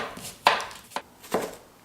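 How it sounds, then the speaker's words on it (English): A knife chops an onion on a cutting board in three crisp, close strikes spaced irregularly, with quiet pauses between. "I'm going to quickly chop up this onion"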